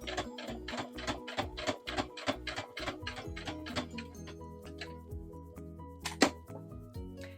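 Sewing machine stitching a pet bandana, rapid regular mechanical needle thumps in a quick rhythm, close and clear, slowing into irregular clicks and a sharp knock near the end, with no voices.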